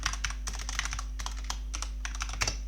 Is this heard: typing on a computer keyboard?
yes